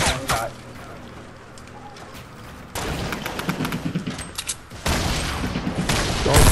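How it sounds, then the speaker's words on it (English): Fortnite video game gunfire in sharp, loud bursts of rapid shots, separated by quieter stretches and growing more intense toward the end. "They're shooting at you?"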